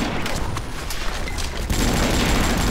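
Loud bursts of rapid gunfire in the shooter game Avatar Star, crackling shots packed together with a denser, louder stretch in the second half.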